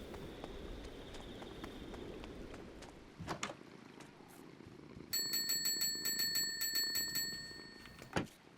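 A bell rings in a video game: a rapid run of bright, repeated metallic pings that lasts a couple of seconds, heard over a low ambient background with a few scattered clicks.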